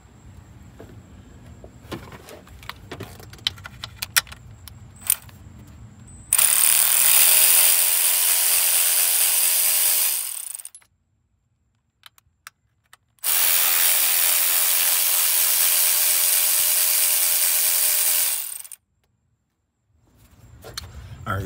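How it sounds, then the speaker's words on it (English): Power ratchet or impact tool loosening upper intake manifold bolts on a Dodge Durango engine: two long, loud sustained whirring bursts of several seconds each, with a brief pause between, preceded by scattered clicks and clanks of tools. "I started loosening these upper intake bolts off"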